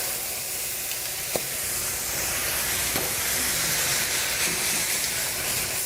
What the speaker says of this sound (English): we're just gonna stir fry it real quick